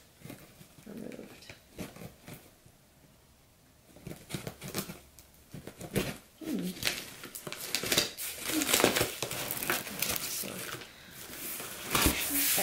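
Packing tape being pulled and torn off an American Girl doll box during an unboxing, heard as repeated loud crinkly rips and crackles of cardboard and plastic, growing busier toward the end.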